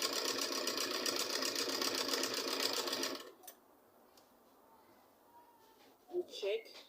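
A sewing machine stitches fabric for a pleated V-shaped turban cap, a steady close buzzing hum for about three seconds that then stops, followed by faint room noise and a brief voice.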